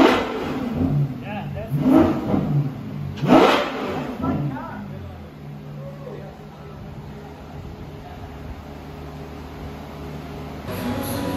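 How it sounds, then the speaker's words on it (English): An N-Largo supercar arriving at a Dubai hypercar showroom revs its engine in two sharp loud bursts near the start, then idles and rumbles lower as it rolls in. "an N-Largo just rolled in, revving, and I managed to capture it on my phone"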